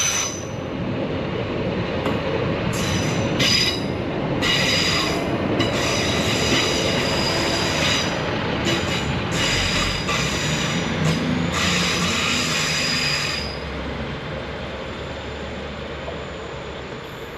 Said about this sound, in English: this time an ECS movement with GWR Class 150 Sprinter 15221